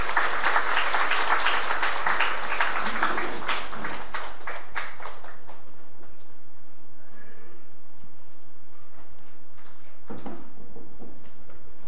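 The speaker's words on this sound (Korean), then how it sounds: "큰 박수로 환영하겠습니다." Congregation clapping in a church during a Sunday service, loud dense applause that thins into scattered claps after a few seconds and fades, with a few faint late claps.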